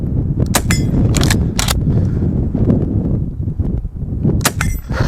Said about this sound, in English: Okay, we've got a couple more shots. Let's hit some steel.